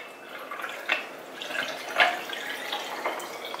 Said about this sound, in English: pour you a drink